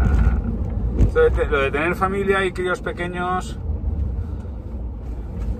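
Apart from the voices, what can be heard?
car driving, heard from inside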